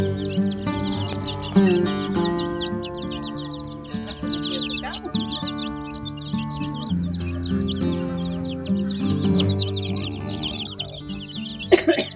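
A flock of Ayam Cemani chickens clucks and squawks continuously up close, layered calls overlapping throughout with a sudden louder squawk near the end.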